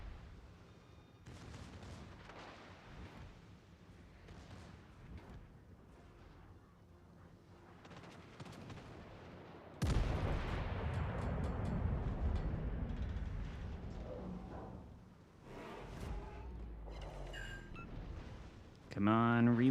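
Heavy battleship gun salvos boom in the World of Warships: Legends naval game, with a loud broadside blast cutting in midway over a low rumbling background, while a player talks throughout.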